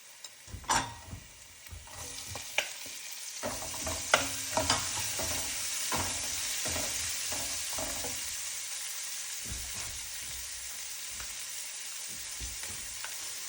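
Onions sizzle in a hot pan for an Indian beef curry, a steady frying hiss broken by irregular scrapes and clinks as a spatula stirs them, fairly close.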